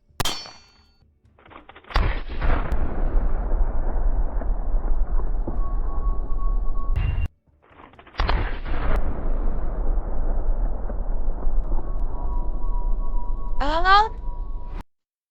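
Two long bursts of rapid, heavy automatic gunfire from a ported and compensated gun in a video game, each several seconds long with sharp onsets and metallic clangs, loud and close.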